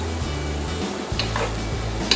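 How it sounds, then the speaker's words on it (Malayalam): A spoon stirs banana and coconut payasam with ghee in a hot pan, giving a close, steady sizzle with soft scraping strokes throughout, alone without talk. "നന്നായിട്ട് ഇളക്കി കൊടുത്തുകൊണ്ടിരിക്കണം."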